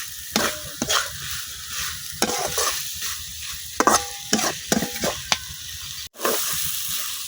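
Chicken pieces stir-frying in spice paste, a soft continuous sizzle under a series of sharp, irregular scrapes and stirs of a spatula against the pan.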